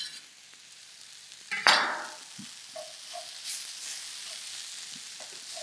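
Vegetables sauté with thyme and corn in a pan: a soft background sizzle with a sharp clatter of a utensil against the pan, then light taps and scrapes, fairly quiet with no talking.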